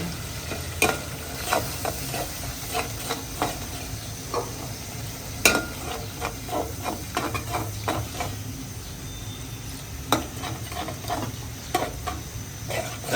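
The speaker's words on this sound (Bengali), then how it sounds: "আমি এখন এটা ভালোভাবে কষিয়ে নিব" Food in a pan with salt, sautéed and stirred in a home kitchen, with a spatula scraping in uneven strokes over a continuous low sizzle, close and fairly loud.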